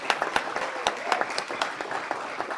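Applause from a council meeting audience for the Gardena G-Trans team after a first-place win, a steady patter of many hands clapping at moderate volume, with no talk over it.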